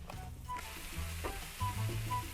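Peppers and onions sizzle in a pan in a small home kitchen, a steady close frying hiss with a few soft stirring clicks and low rumbling bursts, no voices.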